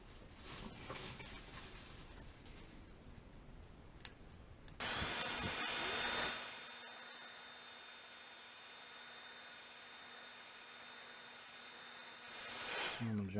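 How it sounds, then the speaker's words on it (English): A hair blow dryer switches on midway with a steady loud whooshing whine to dry paint fill in the engravings of a Glock 19 Gen4 pistol, after some handling noise at the start, ending near the close. "I'm going to take a blow dryer and hit it real quick"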